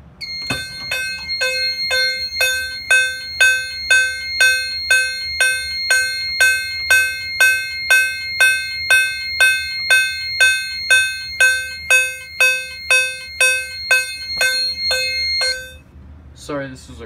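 A fire alarm bell on a Fire-Lite MS-5UD panel rings in march-time pattern, about two strikes per second in a steady loud run for roughly fifteen seconds, then stops abruptly.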